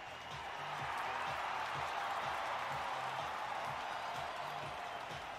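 A cheering beach volleyball crowd at Waveside in the video game Kinect Sports fills the air with a dense, steady roar of applause and cheers, holding at an even level throughout over a faint pulsing rhythm underneath.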